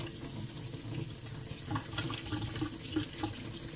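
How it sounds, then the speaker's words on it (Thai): Running tap water streams over muddy wild mushrooms being rinsed clean, a steady close splash and trickle with small shifts as the mushrooms are handled. "มันต้องล้างน้ำอ่ะมันเลอะโคลนมันไม่ล้างไม่ได้"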